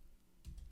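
One faint, quiet press of the Enter key on a computer keyboard during a login-form coding demo, a soft single click near the end.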